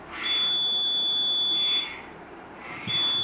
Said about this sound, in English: If any object interferes with the beam, it will start beeping.